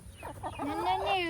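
A backyard hen clucks in a quick run of rising, throaty calls close by, ending in a longer drawn-out squawk; no one speaks.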